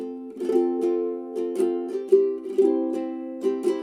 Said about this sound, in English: splay those fingernails across the strings